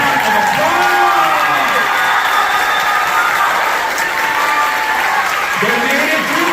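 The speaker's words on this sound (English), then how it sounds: "And can we give them a big round of applause?" Audience at a high school wind symphony concert applauding the seniors, sustained loud clapping from a large crowd filling the room, with scattered cheers and a voice carrying over the applause.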